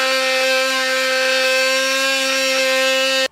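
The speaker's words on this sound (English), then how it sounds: "I'm gonna use my oscillating tool here, and that way we can get this trimmed out and that hitch can sit perfectly" An oscillating multi-tool cuts a notch in a car bumper fascia during a trailer hitch install. It gives a loud, steady, high-pitched buzzing whine, unbroken and close, that stops abruptly at the end.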